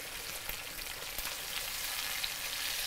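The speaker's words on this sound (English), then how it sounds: "We'll fry them on each side for about 4 to 5 minutes." Fish frying in hot oil gives a steady, fine crackling sizzle with scattered small pops, even and close throughout, no voices.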